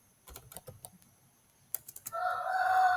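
Quick bursts of computer keyboard typing as a question is entered, several clusters of clicks separated by short pauses, fairly close, followed by a steady electronic hum.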